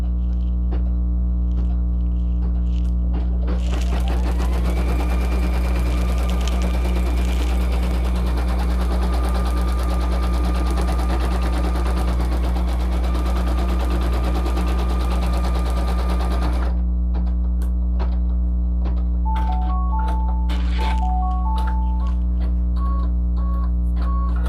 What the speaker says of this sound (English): This is going to be stitch number 1, the placement stitch, and I'm going to hit go.